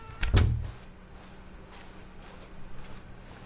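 A door thuds open as Stanley steps through in The Stanley Parable, one short heavy knock near the start followed by a quiet room tone and faint soft footsteps.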